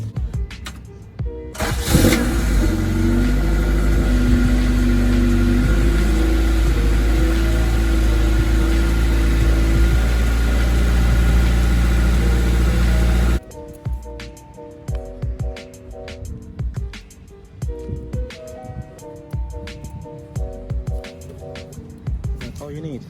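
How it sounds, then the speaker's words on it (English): A 1990–93 Honda Integra's engine cranks and catches, then settles into a loud, steady idle for several seconds before cutting off abruptly, followed by quieter clattery sounds and talk. "Now let me go ahead and start the car and push the brake caliper"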